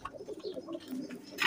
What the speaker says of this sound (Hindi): आज आपके लिए मैं बहुत अच्छे कबूतर लेके हूँ